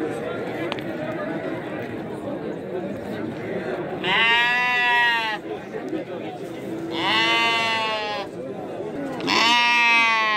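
Lambs bleating at a busy livestock sheep market, three loud drawn-out bleats close by, heard over steady crowd chatter and people talking.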